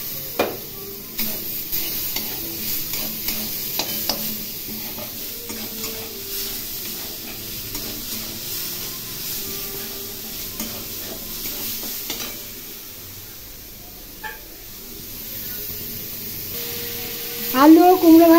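Potato and pumpkin sautéed with red lentils, turmeric, garlic paste and grated tomato in a pan, a steady soft sizzle with spoon stirring scrapes throughout, a few clinks, and a louder burst near the end.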